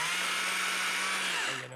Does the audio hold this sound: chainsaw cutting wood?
yes